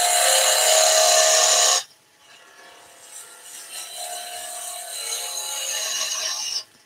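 A skew chisel shapes a wooden table skittle spinning on a lathe, giving a loud, harsh scraping rasp at first, then a quieter, continuing rub that swells slightly before stopping abruptly.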